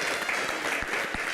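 An audience at a Q&A event cheers a guest with loud, dense applause that holds at a constant level throughout, with no separate claps standing out.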